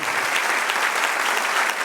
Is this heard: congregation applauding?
yes